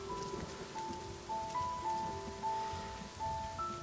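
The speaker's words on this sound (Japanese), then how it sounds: "めちゃくちゃ雨降ってんな。" Heavy rain pours down in the video game Rime, a constant hissing patter running beneath slow, sustained music notes, with no one speaking.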